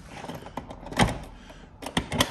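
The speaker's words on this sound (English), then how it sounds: "Hang on, I haven't shut that door properly." A Ford Transit Custom van door with deadlocks is pulled and shut, giving a couple of solid thunks and latch clunks close up, with smaller rattles between.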